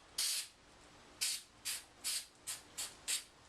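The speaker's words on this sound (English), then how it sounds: "I'm just going to mist it with some darker spray paint." Seven short bursts of aerosol spray hiss up close, each a quick puff, some slightly longer, with brief silent gaps between them.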